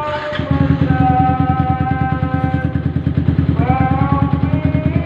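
A Yamaha R15 motorcycle, fitted with a 62 mm bore block, runs steadily just after starting: a loud, close, even engine throb that continues throughout, with faint clatter above it.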